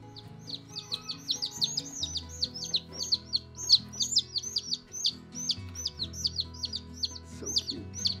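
Newly hatched chicks in a chicken coop peep constantly at close range, a dense, high, rapid chorus of overlapping chirps over a low steady hum.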